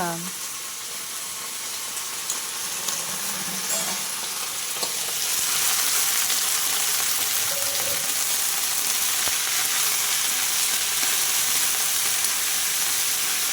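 Drumstick leaves sizzle in hot oil tempering as they are stirred in a pan, a continuous close hiss that grows louder and fuller partway through and then holds steady.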